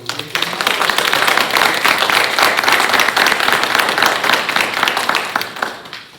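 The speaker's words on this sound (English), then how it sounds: "Please give our candidates a round of applause" A crowd at a school board meeting claps steadily for the candidates, a dense, loud burst of applause that holds for several seconds before tapering off at the end.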